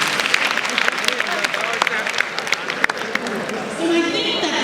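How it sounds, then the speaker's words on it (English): An audience at a Nigerian women's forum in Lagos claps, a continuous spread of applause of medium loudness, with a voice speaking over the clapping and a brief tonal sound near the end. "Can we please give Lagos State a round of applause?"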